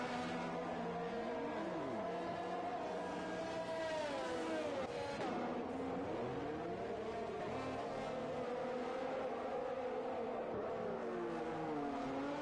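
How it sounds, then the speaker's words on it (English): Formula 1 race cars in the F1 2021 video game pull into the pit lane at Abu Dhabi, with several engine notes rising and falling and pitch sweeping together in a steady, loud drone. "And Mr. Joker and Liam are into the pits together."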